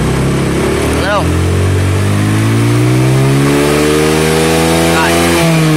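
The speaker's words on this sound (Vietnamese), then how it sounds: "nổ máy lên ga lớn hơn lần nữa, lên ga đâu luôn rồi nè, mình lên ga lớn anh em" A Sym Attila scooter engine is revved hard at high throttle close to the microphone, pitch climbing steadily and holding high before dropping back, with someone talking over it.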